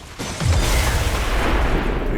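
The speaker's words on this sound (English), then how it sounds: "Big explosion." A big explosion in the video game XCOM 2: War of the Chosen erupts with a sudden deep boom after a brief quiet moment, then rumbles on loudly and steadily to the end.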